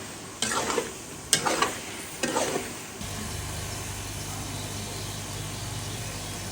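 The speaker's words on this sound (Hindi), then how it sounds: "अब इसको अच्छी तरह मैं भून लूँगी" Grated carrots being stirred and roasted for carrot halwa: three loud scraping stirs with sizzling close by, then a steadier low frying hiss continuing alone.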